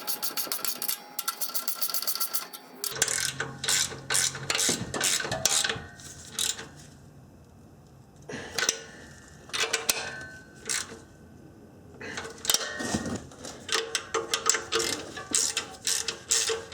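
Quarter-inch drive ratchet snugging fasteners on a Honda Accord mid pipe, rapid clicking pawl in bursts of quick strokes with short pauses, close and crisp, no voices.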